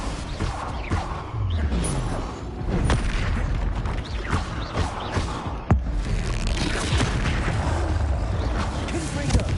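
Spell blasts and booming impacts from Confringo and other combat spells in the Hogwarts Legacy video game, a dense, continuous barrage of explosions and crashes with one sharp hit midway, loud and close throughout.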